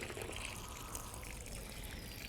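Water pours onto sand for a cement mix at a building job, a faint steady trickle and splash with no pauses.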